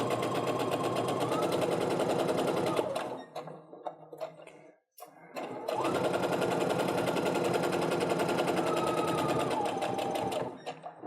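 A sewing machine stitches a quilt block seam in two steady runs of rapid, even needle chatter, separated by a brief pause near the middle.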